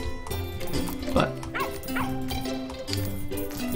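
Cartoonish dog barks and yips from the farming video game Plantera, several short bursts over a bed of game music and sound effects, moderately loud.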